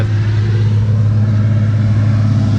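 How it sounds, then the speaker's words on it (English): A tractor passes close by with a loud, steady mid-pitched engine drone and strong low hum, continuous throughout with no voices. "excuse the tractor just going by there"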